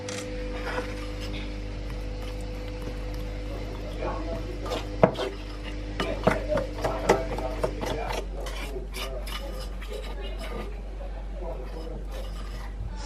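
Cinnamon bun dough being mixed with butter, a steady rasping, scraping churn with bursts of knocking against the bowl, mid-distance, with a faint voice briefly.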